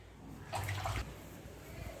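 Water sloshes briefly as hibiscus flowers are rinsed by hand in a vessel, a short splashy burst in the middle of an otherwise quiet, faint stretch.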